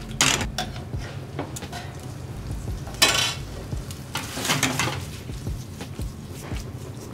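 Pasta being stirred through bolognese sauce in a pan, with soft scraping and sizzling strokes coming in short bursts, close and fairly quiet, no talking.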